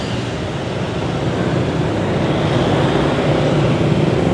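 Dense city street traffic rolls past with motorcycles in the mix, a steady, loud broadband roar of engines and tyres that stays constant throughout with no clear single vehicle standing out.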